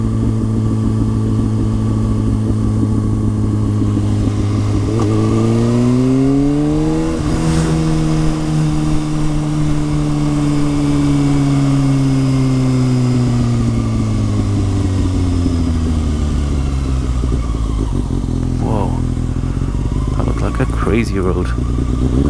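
A motorcycle engine drones loudly and close while riding, its pitch climbing and settling as it revs through the gears, with some popping in the exhaust. A voice talks over the engine noise.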